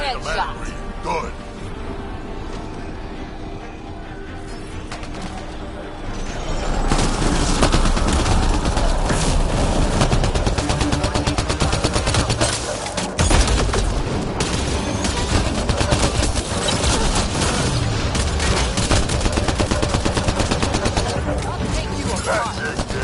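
Combat gunfire in Mass Effect: Andromeda, dense rapid bursts and booming shots that start quiet, then surge loud and continuous, with voices talking over the fighting.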